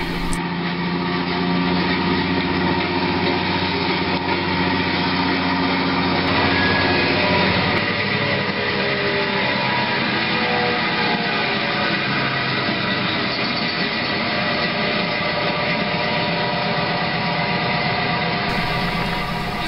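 A GP38 diesel locomotive engine idles in an engine yard, producing a steady, loud, continuous mechanical drone with a constant low hum.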